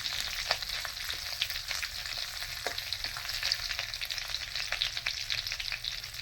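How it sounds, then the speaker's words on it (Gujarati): Fresh curry leaves crackling in hot oil with cumin and mustard seeds as tempering for Gujarati patra: a continuous close, bright sizzle with frequent small pops and spits, and no talking. "મીઠો લીમડો વઘાર માટે"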